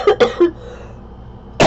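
Three quick coughs in a tight cluster, a short quiet pause, then one more cough, close and fairly loud.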